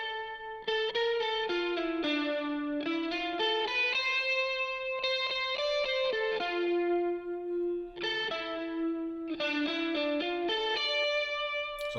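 Electric guitar played through a stock amp preset with warm, mild distortion, a continuous melodic line of sustained notes and quick runs, loud and close with a touch of chorus and echo.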